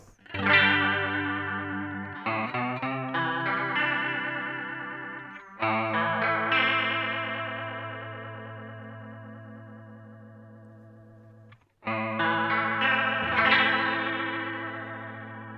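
Electric guitar chords through a Boss CE-2W chorus pedal in vibrato mode ring out with a wobbling, pitch-warbling vibrato, three strummed phrases each sustaining and slowly fading, no voices.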